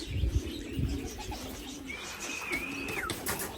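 Racing pigeons returning from an 80-mile training toss coo softly outdoors in cold weather, a low murmuring coo with a brief higher chirp, against faint background ambience.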